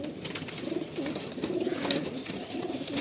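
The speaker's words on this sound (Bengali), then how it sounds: "এই লালসিরা পায়রা, বাহ, এটা নর পায়রা আছে" A red-headed male Giribaj pigeon at a pigeon sale coos close by, repeating soft, low, rolling calls in a steady rhythm over faint background noise.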